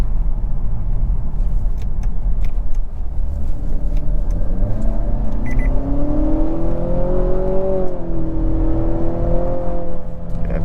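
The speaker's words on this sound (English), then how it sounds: "And turbo just kicks in right away." Engine of a 2023 Nissan Altima SR VC-Turbo accelerating hard, a loud close rising drone with the pitch climbing steadily as the turbo spools up, then easing slightly near the end, with no talk over it.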